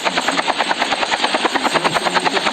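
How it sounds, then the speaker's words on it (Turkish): A video game helicopter's rotor thuds in a rapid, steady rhythm, loud and close, with a whining engine beneath the chopping blades, in Call of Duty battle royale. "Abi helikopter geldi buraya."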